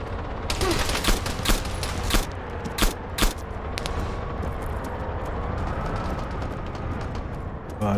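Gunfire in the video game Arma 3: loud bursts of rapid shots crack in a cluster over the first few seconds, then give way to a steady engine-like rumble with a faint hum, and no one speaks.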